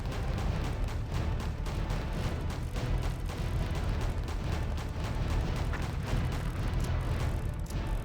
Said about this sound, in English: There's even a giant explosion.